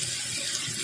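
Floodwater after heavy rain flows past residential patios as a steady, soft rushing hiss with no other sounds.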